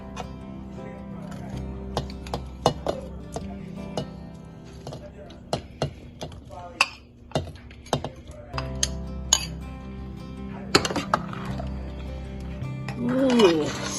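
Fried potato pieces go into a pot of mutton curry, with scattered metallic clinks and knocks of a spoon against the vessel, close and intermittent, while a person talks over much of it.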